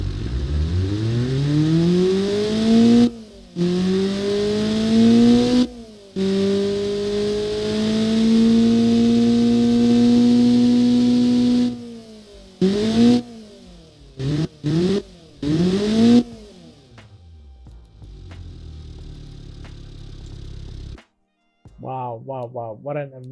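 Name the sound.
Honda D16V1 engine revving on a dyno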